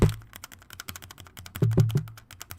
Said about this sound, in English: Next, we'll try a tactile switch so you can hear what the low profile tactile switch